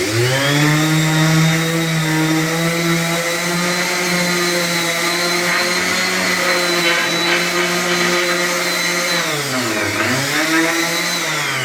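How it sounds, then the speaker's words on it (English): An orbital sander sands paint off wooden trim with a loud, steady, high-pitched motor whine that holds constant for several seconds, then dips briefly and recovers. "So I take my orbital sander and kind of run it over it."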